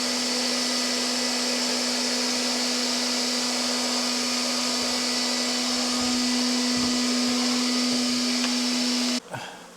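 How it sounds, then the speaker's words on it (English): A vacuum cleaner sucking up honey bees drones steadily at close range with a high whine, running unbroken for several seconds before cutting off abruptly near the end. "smashes them into the back of the hoover"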